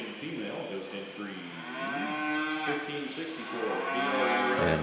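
Cattle low and moo repeatedly at a beef cattle show ring at a state fair, with a cow-calf pair present, the calls drawn out and fairly close, overlapping one another throughout.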